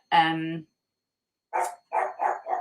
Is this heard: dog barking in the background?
yes